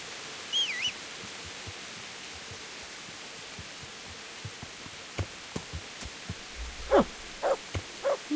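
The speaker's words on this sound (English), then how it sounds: "I'm hearing a dog, though." A dog barks in the medieval game Kingdom Come Deliverance: faint repeated barks in a quiet outdoor scene, growing more frequent and a little louder toward the end, with soft footstep-like thuds between them.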